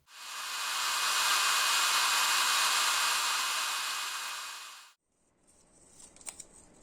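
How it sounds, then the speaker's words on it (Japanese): A hair dryer blasts steadily for about five seconds, heating a decal on a 1/24 Aoshima Fairlady 280Z (S30) scale model car, then clicks off, leaving faint handling noises. "ドライヤーで加熱してしのぎましょう"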